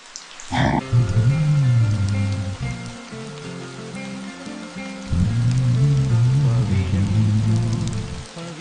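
Steady rain falls outside a home while tea is being drunk. The patter runs throughout at a moderate level, under tonal, music-like sounds that swell and fade twice.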